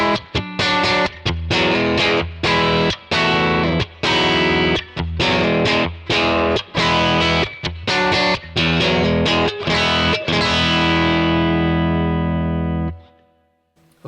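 Electric guitar played through a Kemper amp profile on the instrument channel with the amp volume turned all the way up, giving loud, distorted chords in a steady chopped rhythm that end on one long ringing chord fading into silence.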